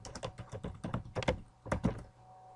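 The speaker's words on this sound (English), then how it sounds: "and then typing in a name that you want to call the presentation," Quick keystrokes on a computer keyboard tap out a short name in irregular bursts, faint and close, with no talking.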